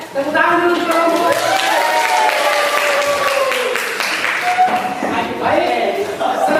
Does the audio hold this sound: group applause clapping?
yes